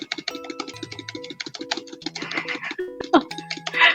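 Rapid keyboard mashing during a Roblox Squid Game X session, dense clattering keystrokes in quick bursts throughout, close and fairly loud, with game sounds mixed in.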